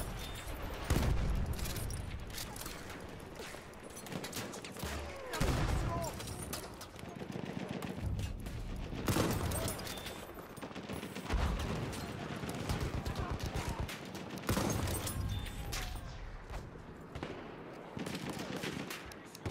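Machine gun fire and rifle shots crackle through a Battlefield multiplayer battle on the Rupture map, bursts repeating through the whole stretch with dense explosive impacts, mixed under occasional speech.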